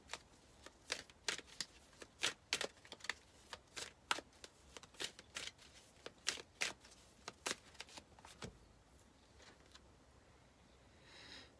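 Oracle cards are shuffled by hand in a run of crisp riffling bursts at an uneven rhythm, close and fairly quiet, and they fade into near silence toward the end.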